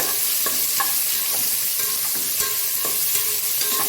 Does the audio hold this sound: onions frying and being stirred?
yes